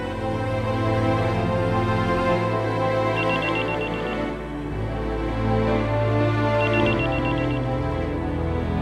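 Telephone ringing on an outgoing call comes in two short repeated bursts, over sustained background music.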